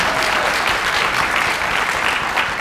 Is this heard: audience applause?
yes